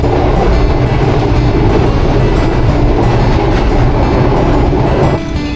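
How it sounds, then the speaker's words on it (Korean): An old, slow colonial-era train on the Colombo to Galle line in Sri Lanka rides with its doors open, giving a loud, continuous rattle and clatter of wheels and carriages that sways throughout, with no voices. "스리랑카 수도 콜롬보에서 남쪽 갈레까지 갈 때 이렇게 문이 열려있는 기차를 탈 수 있어요."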